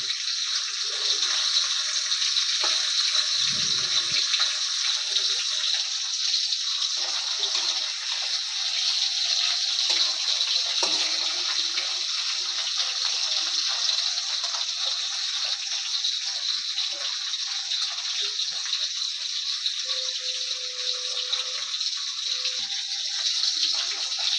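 A hilsa fish head fries in oil in a pan, making a steady, even sizzling hiss that runs unbroken throughout. A few faint clinks sit under it, with no talking.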